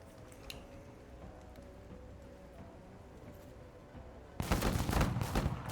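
Gunfire in the video game Menace: a quiet, humming battlefield, then a sudden loud burst of rapid shots near the end.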